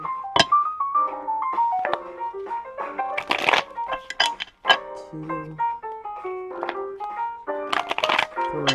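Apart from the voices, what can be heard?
shuffling a deck of tarot cards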